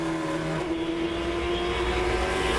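Late model race cars at Langley Speedway roar steadily in a sustained engine drone, a pack running together at close range with a strong tonal hum and no break.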